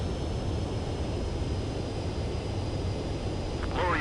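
A fighter jet's engine roars steadily during a landing approach in the Ace Combat flight game, a constant low rumble that stays level and moderately loud throughout, with no speech.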